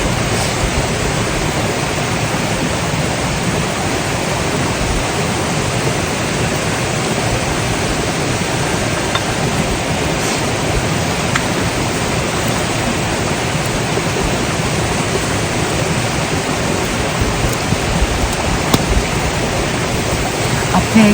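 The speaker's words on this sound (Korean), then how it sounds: "앞에 계곡 물소리가 계속 들리니까 너무 좋네요" A mountain valley stream beside a solo wild campsite flows in a constant, full rushing wash of water, steady and close for the whole stretch, with no voices over it.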